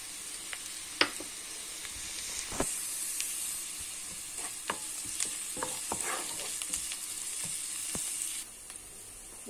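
Shallot, onion and garlic sizzle steadily in a hot pan, with occasional sharp clicks and scrapes of stirring. The hiss stays close and even, then drops away near the end.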